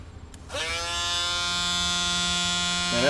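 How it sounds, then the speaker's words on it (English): A small Dremel rotary tool spins up and holds a high, steady buzzing whine while cleaning up edges during HF amplifier kit assembly, close and alone with no speech. "Okay, let me get my little Dremel tool here."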